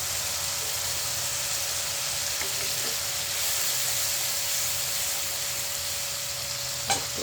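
Cumin, coriander and turmeric paste fries in a pan with a loud, continuous hissing sizzle, steady throughout with a faint clink of stirring near the end.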